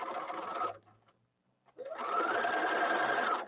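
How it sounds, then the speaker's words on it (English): A sewing machine runs a straight stitch along a circle-skirt hem in two close, loud, steady bursts separated by a brief pause. "you do a straight stitch first"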